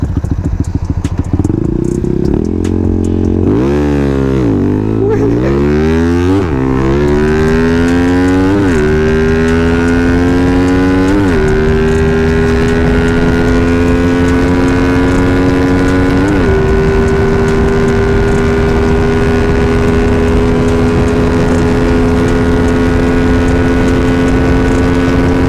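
Bored-up Yamaha MX King motorcycle engine enlarged to 177cc, with stock head and valves, revving loudly up and down in repeated sweeps before settling into a steady high-pitched drone, alone with no voices.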